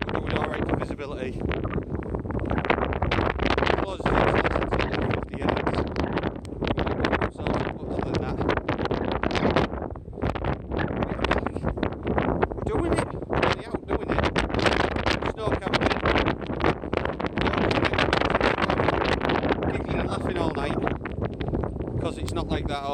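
Strong, constant wind roars and buffets the microphone on a snowy winter hillside near an old lead mine, loud and gusty throughout, with a person talking at times beneath it.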